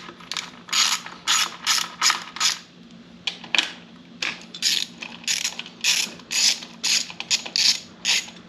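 A hand ratchet loosening 8mm bolts on a Beta 200RR dirt bike, with rapid clicking bursts repeating in a steady rhythm, close and loud, with brief pauses between strokes.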